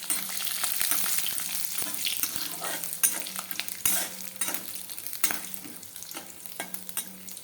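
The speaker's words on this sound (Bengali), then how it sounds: "এখন এই যে এটা তেজপাতা দিয়ে এটা দিয়ে দিব, বাদামটা আর ঘিটা দিয়ে দেওয়া, ভাজা ভাজা করাকে ভাজা ভাজা কর।" Flattened rice fries in a pan with peanuts, ghee and bay leaf, a busy sizzle broken by repeated scraping stir strokes and clinks of the spatula, with no talking.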